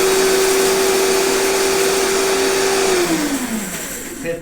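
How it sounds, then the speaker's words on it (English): High-speed blender grinding flax seeds and black pepper, a loud steady whine that slows and drops in pitch as the motor winds down, with no voices. "you got your blender, your high-speed blender, you got your flax seeds, and you got your black pepper in there"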